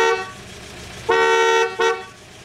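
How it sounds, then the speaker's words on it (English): A 1988 Volga GAZ 24-10 car horn gives two loud, close honks, a long one followed by a shorter one, with a quiet idle beneath and nobody speaking. "the horn, which sounds very 1970s."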